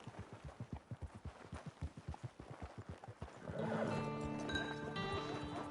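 Horse hooves clip-clop in a steady, even rhythm up close in a video game camp scene, then give way to a denser burst of tonal sound as the animal is hitched.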